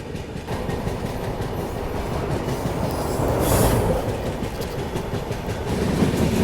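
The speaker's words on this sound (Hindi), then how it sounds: "और सामने से आ रही है डिब्रूगढ़ नई दिल्ली राजधानी एक्सप्रेस" A Dibrugarh–New Delhi Rajdhani Express passenger train approaching and passing a station near Ghaziabad Junction: a steady rolling rumble with wheel clatter that swells to a loud peak midway, then stays strong, with no talking.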